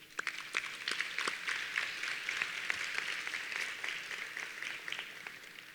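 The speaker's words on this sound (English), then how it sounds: "Round of applause." An awards night audience applauding, steady moderate clapping from a crowd with individual hand claps standing out, kept at an even level throughout.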